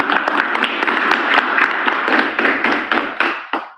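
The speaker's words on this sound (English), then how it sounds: "Have a round of applause." An audience at a city council meeting gives a loud, dense burst of clapping that lasts a few seconds and then tapers off quickly at the end.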